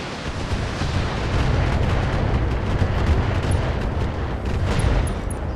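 A missile salvo and weapons fire in the mech strategy game Battletech, heard as a dense, roaring rumble of launches and explosions that holds steady and loud throughout with no voices.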